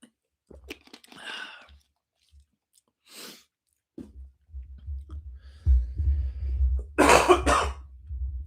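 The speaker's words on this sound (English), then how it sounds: "Thanks for dealing with me and my cough." A few scattered coughs and throat-clearing sounds, ending in a louder burst of harsh coughing, close and with no one talking.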